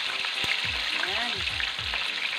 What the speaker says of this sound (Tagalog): pwede na nating iprito yung ating galunggong